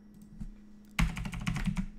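Computer keyboard keys are tapped in a quick copy-and-paste burst while setting up npm and Grunt. A quiet hum gives way to a dense run of close, crisp clicks that lasts about a second.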